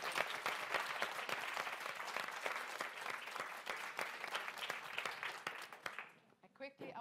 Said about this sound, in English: So a round of applause for Arthur Cox.